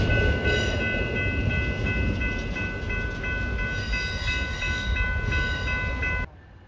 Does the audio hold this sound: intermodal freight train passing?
yes